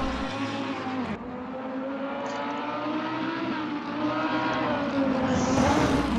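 Race car engine in a racing video game at the Spa circuit roars at high revs, with a sharp gear shift cutting through partway, then climbs steadily again, loud and continuous with no talk.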